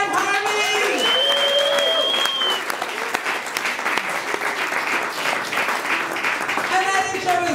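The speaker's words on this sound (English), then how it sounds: "clap really loud" Comedy club audience at Harveys Funny Tuesday's character comedy competition clapping loudly and steadily for the full stretch, dense applause with a few whoops and a host's voice cutting in near the start and end.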